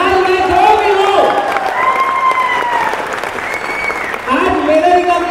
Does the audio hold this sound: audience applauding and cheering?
yes